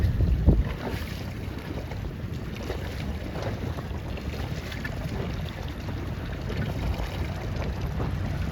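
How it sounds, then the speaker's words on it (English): Wind roars steadily over a Laser sailboat during a regatta race in winds up to 12 knots, a loud, continuous rushing and buffeting with water wash beneath, close to the microphone, with no voices. "Winds up to 12 knots"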